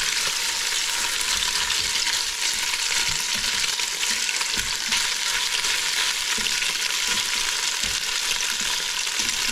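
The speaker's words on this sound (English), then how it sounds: "I'm really only browning them a little bit." Chinese Peking-style ribs browning in a pan give off a steady, loud, close sizzle, with faint stirring and scraping scattered through it. No voices.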